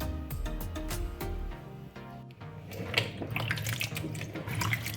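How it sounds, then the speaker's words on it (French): Freshly cut potatoes, about 2.5 kg, are rinsed under a running kitchen tap. Clattering and knocking of potato pieces come first, then a continuous gush and splash of water up close. "Je vais donc rincer et mettre dans la marmite."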